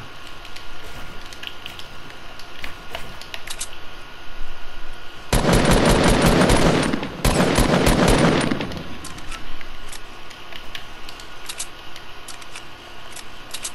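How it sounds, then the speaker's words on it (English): Automatic gunfire in the Fortnite video game, two dense bursts of rapid shots lasting about two seconds each, loud and close, over a steady game background with faint scattered clicks. "I'm getting shot at."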